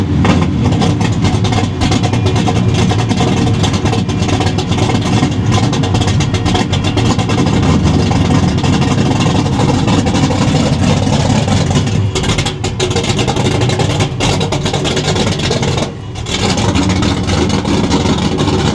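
A Chevrolet engine at a Chevy car show in Omaha, recorded close at the exhaust, rumbles loud and continuous with a deep steady idle throughout, dipping briefly near the end.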